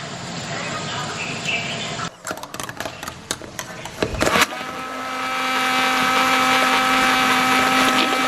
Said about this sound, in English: use the stick blender to blend it all up